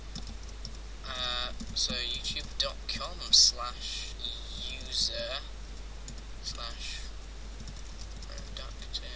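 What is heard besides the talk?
typing on a computer keyboard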